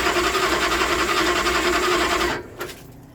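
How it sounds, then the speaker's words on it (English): Starter cranking a hard-starting vehicle that sits outside, a steady fast rhythmic whir for over two seconds that cuts off abruptly, followed by a brief click and quiet. "Let's go ahead and just crank a little bit more."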